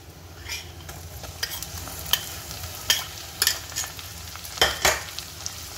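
Crushed ginger, garlic and shallots frying in a pan for Kerala sardine rice, with a soft steady sizzle under irregular scraping and clinking strokes of a stirring spoon.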